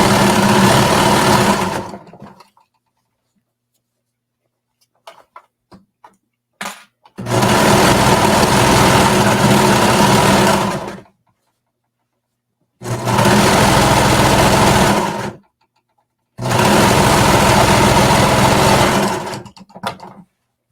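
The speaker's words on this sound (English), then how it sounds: "I'm just going to sew it right onto the seam allowance without cutting anything off" A serger sewing machine stitches along a seam allowance in several long, loud, steady runs of rapid mechanical whirring, separated by silent pauses, with faint handling clicks between runs.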